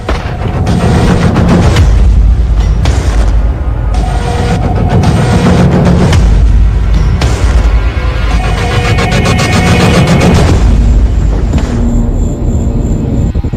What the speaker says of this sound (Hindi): तभी एक धमाका होता है और पूरा समंदर कांप उठता है